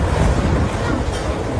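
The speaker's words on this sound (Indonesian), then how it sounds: "Pusaran angin yang berada di atas desa menyapu seluruh benda ringan hingga berterbangan kemana-mana." A tornado whirlwind roars over a village, heard as a loud, steady rushing wind noise that fills the whole moment without a break.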